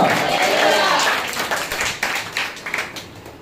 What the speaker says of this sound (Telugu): ఒకసారి చప్పట్లు కూడా దేవుని నామానికి మహిమ కలుగజేద్దాం